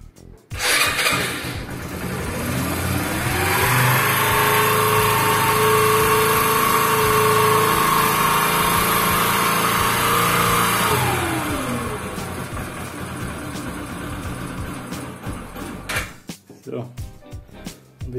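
A Yamaha YBR 125 motorcycle with choke pulled, 14,365 km on it and a freshly cleaned air filter, starts and is held at a rising, sustained rev before dropping back to a rough idle, close and loud, with brief talk near the end.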